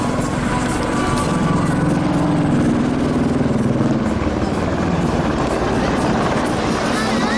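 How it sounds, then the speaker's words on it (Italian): An HH-101 helicopter maneuvering at an air show, its rotors and turbines producing a loud, continuous roaring thrum with steady blade chop that holds without break throughout. "Pitch down in questo momento per l'elicottero che abbassa il muso con i carrelli estratti e il faro"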